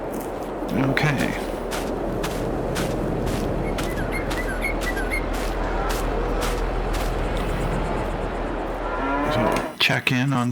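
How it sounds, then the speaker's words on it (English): Cattle in the Little Mountain Country farming video game, with cows lowing in a herd over a constant low engine-like drone, while footsteps and short bird-like chirps sit in the background. "And hey, we have cows."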